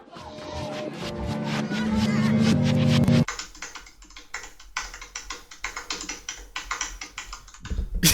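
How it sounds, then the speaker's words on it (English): Music plays for a few seconds, then cuts to rapid, uneven clacking of computer keys, close and fairly loud, continuing in quick bursts. "That sounds like the fakest fucking typing I've ever heard."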